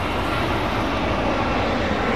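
Delta airliner departing London Heathrow, heard as a steady, loud jet engine roar that fills the whole stretch with no pauses and no talk.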